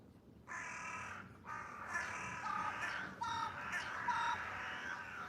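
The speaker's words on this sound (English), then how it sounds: "Why are there so much crows in the tree?" Crows caw repeatedly from a tree, several harsh calls overlapping in an irregular rhythm, fairly close and clear with no speech over them.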